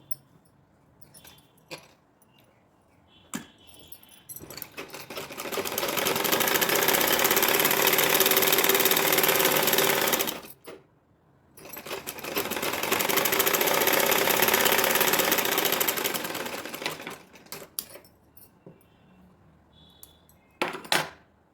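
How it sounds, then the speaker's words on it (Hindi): An electric sewing machine stitches lace onto saree fabric for an Anarkali gown. It runs in two long, steady whirring bursts of about five seconds each, with quiet handling clicks before, between and after. "अब इसको भी सेंटर में रखते हुए और इस पर लगा देंगे सिलाई।"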